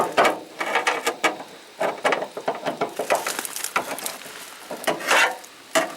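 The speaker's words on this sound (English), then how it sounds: "If I can open the trunk here." A screwdriver works at the trunk lock of a Camaro under restoration, producing an uneven series of metallic clicks, scrapes and ratcheting rattles at close range.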